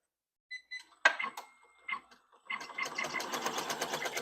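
A sewing machine stitches a garment, starting with a few short clicks and whirring bursts before settling into a fast, steady mechanical chatter of rapid stitching, close by and fairly quiet, with no talking.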